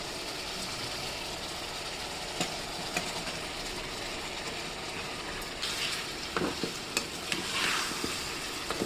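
Ground spices and chicken are stirred and fried in a pan for a home-style chicken curry in Dhaka, with a soft continuous sizzle and a few scraping knocks of the spoon near the end.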